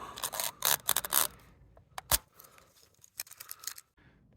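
Tape and plastic stripping being peeled off the roof of a Toyota Tacoma, heard as close, sharp tearing and crackling bursts followed by scattered small scrapes and clicks.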